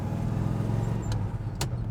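A 1965 Pontiac GTO rolls along a road in first gear, its engine holding a steady low drone with road noise, plus two faint brief clicks from inside the car.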